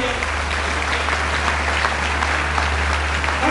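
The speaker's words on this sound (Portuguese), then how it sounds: "Quem crê, aplauda e dá glória." A church congregation at a missions congress applauds together in a loud, dense, steady wash of clapping that lasts throughout, with no other sound standing out.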